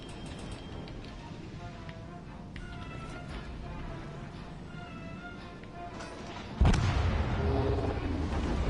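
AP bombs strike a warship in a naval combat video game, first a low rumbling background with faint tones, then a sudden loud blast at about two-thirds through that leaves a heavy, sustained roar.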